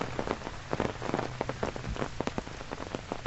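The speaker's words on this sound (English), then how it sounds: "These are bands of rain, so it can rain for like 20 minutes and then sun pops out." Heavy rain from a typhoon lashes down at a high hilltop lookout in Hong Kong, a loud, dense, steady hiss with sharp spatters of drops striking nearby surfaces throughout, no voices.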